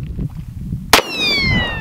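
.50 caliber rifle fired at a gold target outdoors: one sharp, loud crack cuts through low background rumble, followed by a clear metallic ringing that slowly fades.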